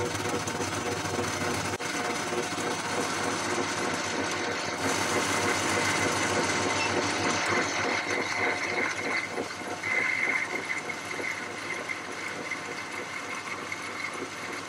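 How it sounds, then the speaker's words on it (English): A metal lathe with a parting-off tool cutting a recess into the end of a steel workpiece turned down to 12 mm, giving a steady loud whirring drone with a continuous grinding buzz throughout. "with my parting off tool, I've just cut a recess at the end that should clear the thread"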